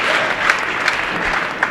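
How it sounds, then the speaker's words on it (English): A bowling arena crowd at the 2013 QubicaAMF World Cup men's final claps and cheers steadily after a strike. The noise is a dense, continuous wash of applause with a few sharper claps and shouts standing out. "You can hear the crowd trying to draw him in a little bit here and get it going"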